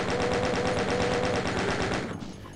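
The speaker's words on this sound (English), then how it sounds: "This is a gun which stunlocks you." Rapid automatic gunfire in Ultimate Doom, a loud, steady rattle of evenly spaced shots lasting about two seconds before cutting off and fading.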